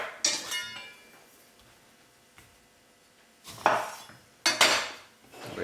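Utensils clink and scrape against a bowl as Lebanese tabbouleh is roughly tossed, with a few sharp bursts of clatter separated by quieter stretches.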